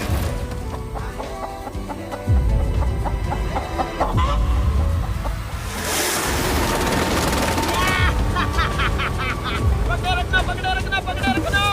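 A chicken clucks and squawks in a forest survival video game, scattered calls over busy game sounds, a burst of noise and splashing, with people talking throughout.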